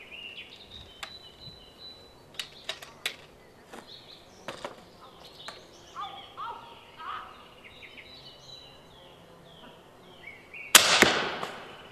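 Indoors, a Bobcat toy crossbow is cocked and fired at a water-filled balloon: scattered clicks and clacks of handling, then one sharp, loud snap and burst near the end, with a brief splash-like hiss.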